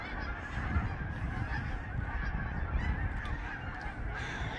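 Many wild ducks in a large flock flying overhead above a lake call at once in a dense, continuous honking chorus, steady and fairly loud throughout.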